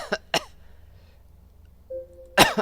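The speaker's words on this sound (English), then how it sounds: "I get this fucking goddamn cough on me." Three sharp coughs from one person, two quick ones close together at the start and a louder one at the end, separated by near silence with a faint tone in between.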